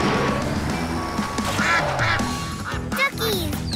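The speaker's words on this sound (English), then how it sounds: "Aw, those little ducks really like their new home." Cartoon ducks quack repeatedly in a busy animated scene, with several loud, close nasal quacks over background music and a voice speaking.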